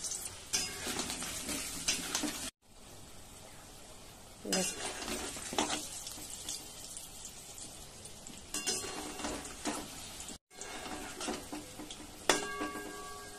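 Potatoes fry in hot oil in a wok, with busy sizzling and frequent stirring scrapes and utensil clinks, broken by two brief silences.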